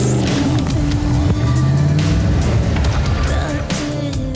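An off-road racing car, built up to reach 200 kilometres an hour, roars steadily and close by at full throttle, its engine loud and unbroken with rough tyre and surface noise mixed in.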